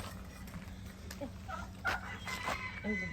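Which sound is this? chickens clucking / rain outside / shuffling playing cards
chickens clucking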